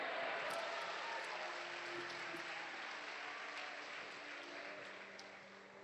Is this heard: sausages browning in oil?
no